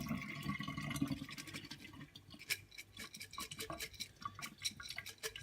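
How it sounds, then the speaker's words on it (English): Water pours and sloshes in a mason jar fitted with a sprouting lid, a running fill followed by splashy drips and irregular trickles draining out, close and fairly quiet. "These are not seeds, these are just some water in, water out."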